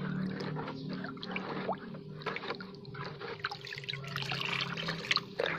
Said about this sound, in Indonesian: Kita aduk-aduk sampai gula pasirnya menyatu dengan air ya.